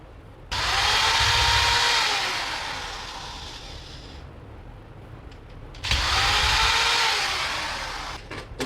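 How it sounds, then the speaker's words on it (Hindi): A power screwdriver backing out long screws from an RO booster pump motor being scrapped, two sustained whirring bursts of several seconds each with a pause between, loud and close. "ये वाले स्क्रू खोलते हैं"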